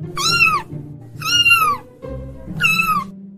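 A kitten gives three loud, close, rising-and-falling meows spaced about a second apart, with soft low background noise between them.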